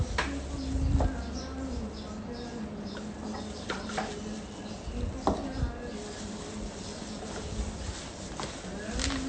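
A knife chops onions on a board in a home kitchen while nasi kerabu is being prepared, giving a few sparse, sharp knocks over a low steady background hum.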